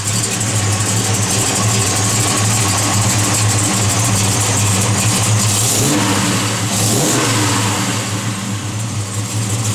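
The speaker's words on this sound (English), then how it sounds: "Good sounding big block." A 1971 Chevrolet Chevelle SS big block V8 with a mild cam idles loud and close, its steady lumpy rumble broken by a couple of brief throttle blips.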